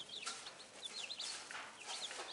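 Chicks cheep in a high, busy chorus on a small farm, rapid overlapping peeps close by and fairly quiet, with no talking.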